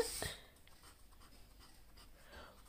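Marker or chalk strokes while an electronic configuration is written on a board: a brief burst of scratching at the start, then faint scattered taps and squeaks, ending with a sudden louder knock.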